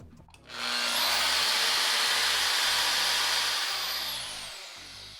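A Milwaukee portable bandsaw starts up on a Swag Off Road table, spinning up quickly into a loud, steady whirring hiss that holds for several seconds before beginning to wind down.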